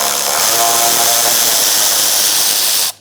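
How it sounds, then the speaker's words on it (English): An inverted Torx E5 bit spins valve cover studs out of a 2002-2006 Toyota Camry engine, a loud, steady, hissing whir for about three seconds that cuts off abruptly. "we're going to use an inverted Torx bit, size E5, and we're going to put that on these studs"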